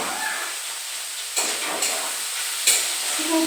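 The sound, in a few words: chicken frying in a pan for chow mein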